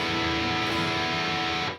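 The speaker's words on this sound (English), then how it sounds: "because if I don't mute those strings and I play the octave shape," An electric guitar played in an octave shape with the idle strings left unmuted, giving a dense, cluttered wash of ringing notes and slight distortion that sustains loudly for almost two seconds before cutting off abruptly.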